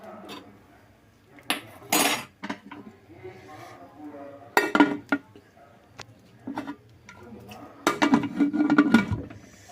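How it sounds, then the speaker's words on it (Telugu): Metal clinks and clatter from a pressure cooker lid going on in a home kitchen during gongura dal preparation, several sharp separate knocks with quieter handling in between. "నేను కుక్కర్ మూత పెట్టేస్తాను."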